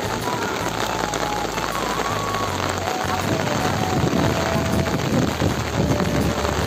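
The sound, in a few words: rain falling on rice paddy field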